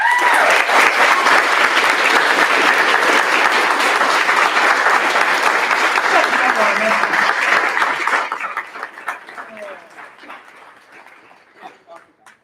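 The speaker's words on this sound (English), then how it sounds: "I think that deserves a round of applause" A high school band concert audience gives the band director loud, sustained applause that tapers off and thins into scattered claps, with a voice and some cheering heard under it.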